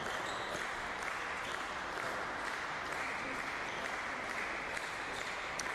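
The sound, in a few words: slow clapping from spectators at another tennis match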